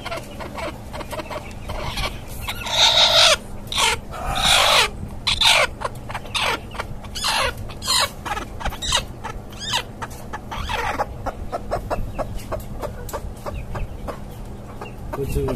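A desi naked-neck hen sitting on eggs in a cage gives repeated soft clucks, close by, with other poultry and farmyard noise around it and no speech over it.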